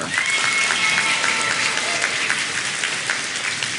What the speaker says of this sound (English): Can we please have a round of applause for all our graduates this evening?